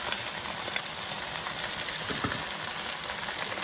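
Homemade pad thai sauce hits a hot pan of noodles and sizzles, a steady bright frying hiss with a few soft clatters from the pan, close and continuous without talk.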